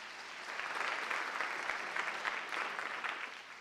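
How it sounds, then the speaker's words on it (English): An audience at a school district awards ceremony claps for the Board of Education, a brief, dense burst of applause from a crowd that swells and then tapers. "Give a round of applause to the Board of Education."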